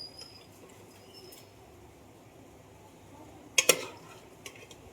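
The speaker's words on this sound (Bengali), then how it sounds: "এবার আমি দিয়ে দিচ্ছি আমার মাটনগুলোকে। সেদ্ধ করে রাখা মাটন।" Boiled mutton pieces drop into a cooking pan of half-reduced spices with a brief clattering sizzle partway through, set against a steady low kitchen hum and no talking.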